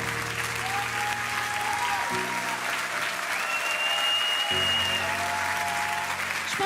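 A talent-show audience claps for a performing team in a dense, continuous wave of applause, loud and sustained, with a held musical tone underneath.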